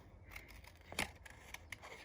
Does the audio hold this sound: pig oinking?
no